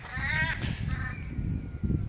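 Crows mobbing a bird of prey over a bluebell wood, giving loud, harsh, repeated caws close by with a raspy overlapping quality, against steady outdoor background noise.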